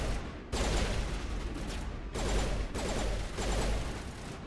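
Rapid gunfire bursts in the Mass Effect video game, loud and dense, three sustained volleys separated by brief gaps, with no talking.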